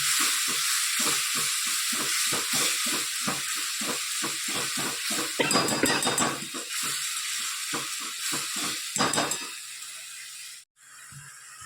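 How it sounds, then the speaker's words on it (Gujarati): Ground masala with green chillies, black peppercorns and cloves roasts and sizzles in a pan while a spoon stirs in rapid rhythmic scrapes, continuous hissing underneath, ending with a brief pause. "મસાલો સરસ શેકી લઈએ"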